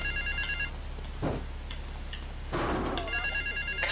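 A payphone rings in the Grand Theft Auto III video game, with a bursts-of-trill ring at the start and again at the end, and short noisy thumps and rushes from the game in between.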